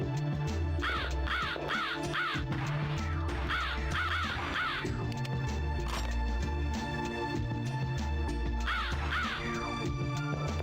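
Crows caw in repeated harsh bursts, in clusters of three or four calls separated by short pauses, set over a steady low game soundtrack in a horror shooter world.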